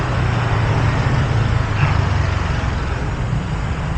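Busy road traffic where many cars, trucks and buses pass in a steady, dense roar of engines and tyres, loud and continuous with no clear breaks.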